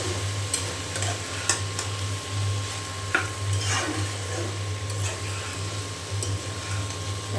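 A spoon stirring taro curry with rohu fish in a pan, soft sizzling underneath and a handful of scraping, tapping strokes against the pan, fairly close with a steady low hum in the background.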